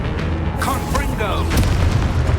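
A deep booming blast from the Confringo fire spell in the Hogwarts Legacy video game rumbles under a shouted incantation and game effects, loud and sustained for a couple of seconds.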